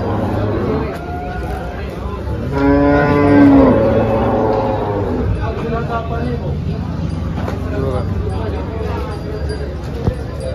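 A cow gives one drawn-out moo amid a busy outdoor cattle market crowd, with people talking and background chatter throughout.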